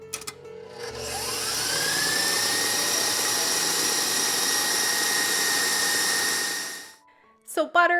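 A KitchenAid stand mixer whips cream into butter, its motor spinning up into a loud, steady whir that holds for several seconds before winding down, followed by a few faint knocks.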